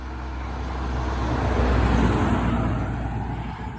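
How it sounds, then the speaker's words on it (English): A car approaches from behind along a quiet country lane under a tree archway in Cornwall, its steady road rumble swelling closer and then easing slightly as it passes. "You can just hear a car coming from behind me"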